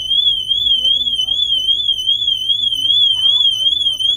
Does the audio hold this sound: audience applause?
no